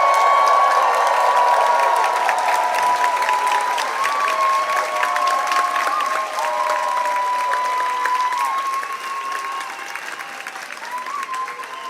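Graduates and audience at the UCLA School of Dentistry commencement clap and cheer as the Doctor of Dental Surgery status becomes official. Loud, sustained applause with shouts and whoops fades slightly toward the end.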